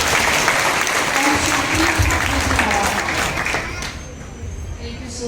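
An audience at a Brahma Kumaris programme bursts into loud, dense applause that holds steady and then thins out toward the end.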